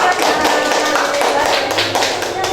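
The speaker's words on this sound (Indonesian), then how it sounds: "berikan tepuk tangan buat kelompok 2" A classroom of students clapping for a presenting group, close and brisk, with many hands producing a continuous patter for a couple of seconds.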